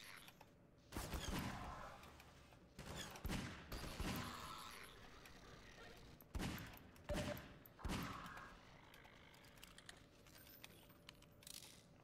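Enemies shooting during Half-Life 2 at Nova Prospekt, with sharp bursts of gunfire in irregular clusters, some rapid volleys, fairly close against quieter game ambience.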